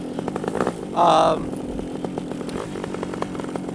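Electric motor of an Air Conception 280 RC model airplane spinning a 3-blade propeller, a buzzing whine with a brief loud surge of throttle near the start before settling back to a steady drone.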